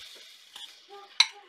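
Seasoned rice for Japanese fried rice is tipped into a hot pan and stirred, with soft scraping, a faint sizzle and one sharp clink of a utensil against the pan, quiet overall.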